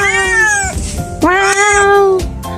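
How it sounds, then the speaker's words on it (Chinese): A cat at a mountain hotel near the snow peaks meows twice, long, clear and close, with bright rising-and-falling cries and no talk over them. "这边有一只最孤独的猫，跟它打招呼。"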